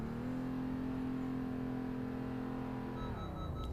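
A Honda Pilot SUV accelerating up to about 15 mph for an automatic emergency braking test, a steady engine drone with whirring tone, rising slightly then settling, close and continuous with no talk.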